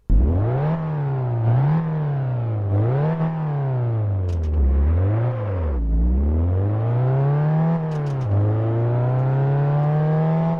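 Car engine sounds from the racing video game Test Drive Unlimited, a loud synthetic engine revving up through repeated gear changes with rising and dropping pitch sweeps, buzzy and continuous.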